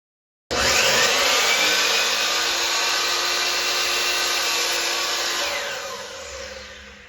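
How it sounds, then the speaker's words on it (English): A power saw cuts wooden trim for a floating bench, starting abruptly and running loud and steady for about five seconds before easing off as the cut finishes, with no talking. "now I'm going to go down and cut the trim"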